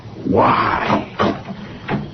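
A creaking door swings open in a 1975 CBS Radio Mystery Theater drama, with a long groaning creak followed by two shorter knocks or thuds, close and loud.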